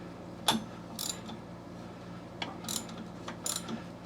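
A Briggs & Stratton small engine with a failed camshaft is turned slowly by hand, giving a handful of sparse mechanical clicks and ratcheting ticks at close range, with quiet gaps between them.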